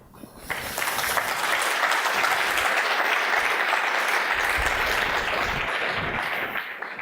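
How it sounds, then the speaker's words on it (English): Conference audience at ChefConf 2014 breaks into applause, a dense, steady wash of many hands clapping that swells quickly and holds loud and even for several seconds. "You need to give your hands a big clap in here"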